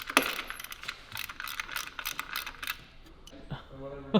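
Ratchet straps are cranked tight to hold a transmission in place, giving a run of quick rattling clicks close by for about three seconds, then a pause and a brief voice at the end.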